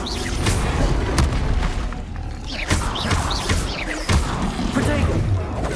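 An explosive Confringo spell cast in the video game Hogwarts Legacy lands as repeated booming thuds and crashes amid a dense, busy wash of combat effects, with whooshing bursts spread across the clip.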